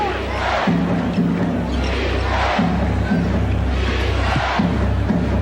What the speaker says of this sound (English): Chant of defense from the crowd.